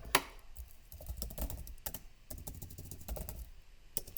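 Typing on a computer keyboard while writing a MATLAB function, with quick irregular clusters of key clicks and taps close by, a few louder strikes, and no talking.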